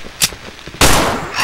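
Pistol shots in the horror video game Cry of Fear: a short sharp report, then a louder, heavier blast with a lingering tail, close and alone with no speech.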